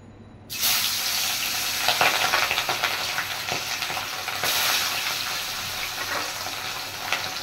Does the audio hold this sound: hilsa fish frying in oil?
yes